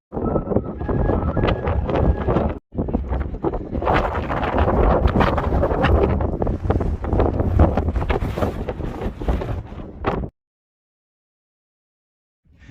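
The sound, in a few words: strong wind on a mountain summit in Snowdonia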